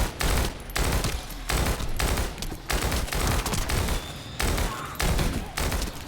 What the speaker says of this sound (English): I honestly don't really like this little burst rifle that much.